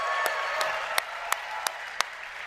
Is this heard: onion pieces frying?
no